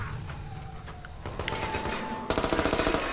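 Video game gunfire crackles in rapid bursts, building into a dense, loud, rhythmic fusillade of shots toward the end, with no voices.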